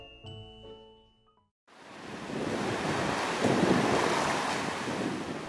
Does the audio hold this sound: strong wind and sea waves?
yes